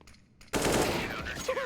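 A sudden burst of rapid gunfire erupts after a quiet moment, loud and sustained with a whooshing tail, like a video game firefight.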